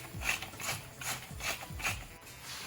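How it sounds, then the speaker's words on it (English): A salt grinder turned over a creamy mushroom pasta bake, giving a series of crisp ratcheting clicks in about five quick twists, close and fairly quiet, with no talk. "a good grinding of salt"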